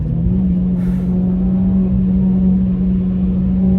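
A Renault Clio RS engine drones steadily from inside the car while cornering, a loud, even hum with no pauses or sharp revs.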